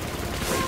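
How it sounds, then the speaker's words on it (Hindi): Enemy gunfire in Rise of the Tomb Raider crackles in a rapid, dense burst of shots, loud and close, filling the short moment. "इतनी गोलियां चला रहे हैं ना भाई"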